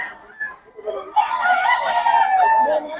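A two-year-old Boston Roundhead rooster crows loudly and close by, a long drawn-out call preceded by a few short clucks.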